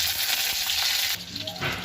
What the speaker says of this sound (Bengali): পালং শাকের তরকারি করতে বড়িগুলো আগে ভেজে নেবো।